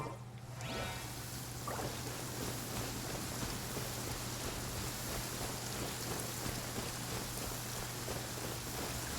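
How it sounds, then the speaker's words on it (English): Steady rainfall in the video game Genshin Impact, a dense, even hiss of drops at moderate distance that continues unbroken, with a low hum underneath and no speech. "When stuck on a deserted island, rain is a precious source of drinking water."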